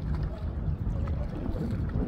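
Steady wind buffeting the microphone with a low rumble, continuous and fairly loud, with faint water or boat noise beneath.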